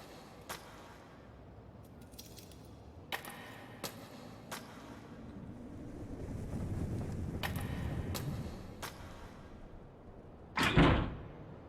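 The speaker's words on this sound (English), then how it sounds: "I hear a noise like something slamming against the door." Something slams against a door in the video game Death Mark, with several sharp knocks scattered over a low rumbling background and one heavy, loud bang near the end.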